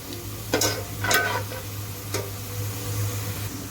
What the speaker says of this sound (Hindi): देखें प्याज ये मुझे फ्राई हो रहा है